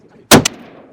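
One sharp, loud rifle shot from a Sterling-built Armalite AR-180 at a 300 m range, with a quick echo just after and a short fading tail.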